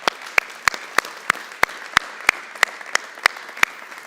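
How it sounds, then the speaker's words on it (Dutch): Audience applause at a televised cycling gala talk show, heard as a steady series of sharp, evenly spaced claps, fairly loud and alone with no talking. "Nog een keer een applaus zien"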